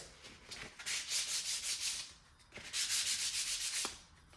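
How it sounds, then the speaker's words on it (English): Light sanding of a lacquered walnut surface: two long bursts of soft, rapid back-and-forth scratching strokes, close up, separated by a brief pause. "You will get like a dusty sheen on here from the sanding"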